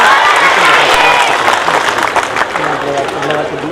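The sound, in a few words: audience applause and cheering at school Republic Day speech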